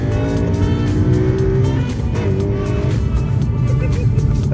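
A Honda Accord Euro R driven hard, its engine revving loudly and steadily with shifting pitch and rough road noise close up, some faint voices underneath.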